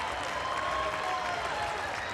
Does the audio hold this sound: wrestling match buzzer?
no